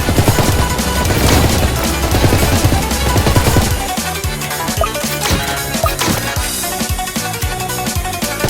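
Gunfire and explosions erupt across a battlefield in a tower defense video game cutscene: a dense, loud barrage of rapid shots and blasts for the first few seconds, then thinning into scattered sharp bursts and impacts.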